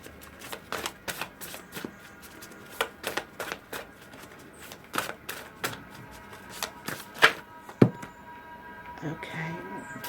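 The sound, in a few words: shuffling tarot cards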